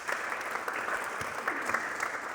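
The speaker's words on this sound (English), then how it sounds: "Give them all a big round of applause." An audience claps steadily through a short stretch at a panel discussion on pituitary research, a moderately loud, even patter of many hands with no voices over it.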